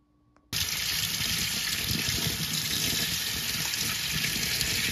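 Tap water gushes steadily into a sink as eggs are rinsed beneath it, a loud, continuous close stream starting abruptly after a brief quiet moment.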